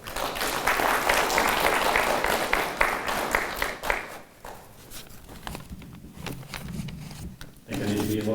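Graduation ceremony audience applauding the parents, clapping strong for about four seconds before thinning into scattered claps and faint voices, then a short burst of sound at the end.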